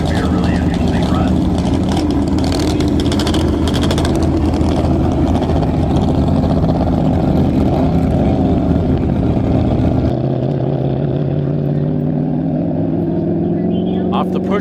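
A land speed race car at the Bonneville Salt Flats pushed off by a push truck, its loud engine roaring and rising in pitch, with a second engine droning near; a voice commentates over it.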